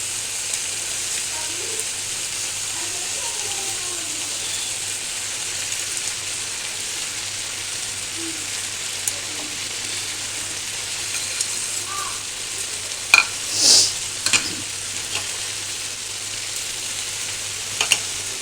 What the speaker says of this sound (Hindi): चलिए अब हम इसकी अच्छे से बुनाई कर लेंगे।